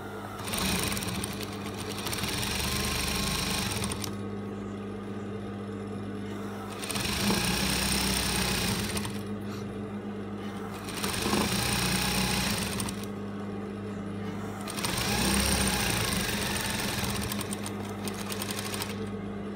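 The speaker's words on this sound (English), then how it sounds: "So, we are in our sewing machine now." A sewing machine stitches fabric for a scrunchie with a half-inch seam allowance, running in four sustained bursts of steady whirring separated by short pauses, close and fairly loud.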